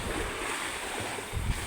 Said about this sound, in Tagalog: Ang alon. Punta na rito.